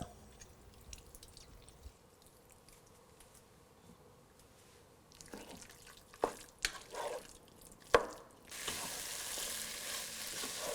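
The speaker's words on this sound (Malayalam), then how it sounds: "ഇതിലോട്ടിനി നമ്മൾ എടുത്തു വച്ചിരിക്കുന്ന പകുതി ലെമണിൻ്റെ ജ്യൂസ് പിഴിഞ്ഞൊഴിച്ച് നന്നായിട്ട് മിക്സ് ചെയ്യുക" Masala-coated beef for a beef curry is mixed with squeezed lemon juice, starting with quiet soft stirring, then a few wet clacks and squelches before a steady sizzle-like hiss takes over near the end.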